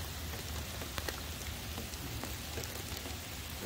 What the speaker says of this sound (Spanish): Está lloviendo recio.